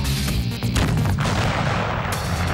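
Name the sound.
explosion of 5 kilos of explosive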